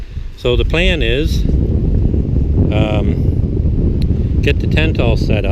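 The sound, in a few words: wind blowing on an island beach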